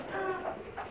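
A Pakistani pigeon gives a soft, close, low coo lasting about a second, with no voices over it.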